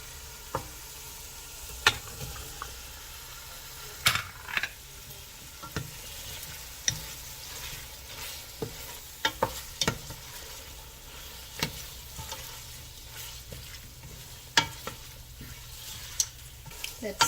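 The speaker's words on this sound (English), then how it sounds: "Let's saute the linguica about 2 minutes." Linguica sausage sautéing in a pan, a steady low sizzle with frequent sharp clicks and scrapes of a utensil stirring the meat, fairly quiet and close, no talking.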